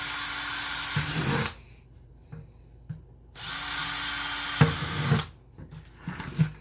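Two bursts of a power drill whirring at high speed drilling holes in a 5-gallon bucket, separated by a pause with soft handling knocks, followed by scattered clunks.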